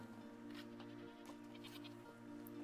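Goats bleat faintly in a village in the video game A Plague Tale: Requiem, a few quiet, wavering calls over a low, steady ambient hum.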